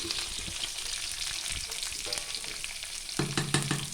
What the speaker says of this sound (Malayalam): കടുകിട്ട് പൊട്ടി ഞാൻ കൊച്ചുള്ളി അരിഞ്ഞ് വെച്ചിട്ടുണ്ടായിരുന്നു. ആ കൊച്ചുള്ളി അതിനകത്തോട്ട് ചേർക്കാം.